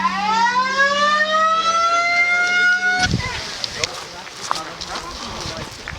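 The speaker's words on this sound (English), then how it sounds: "That siren, I have a recording of it here on my phone." A river warning siren, played from a phone recording, wails with a rising, sustained tone for about three seconds, then cuts off and leaves low background noise and faint handling sounds.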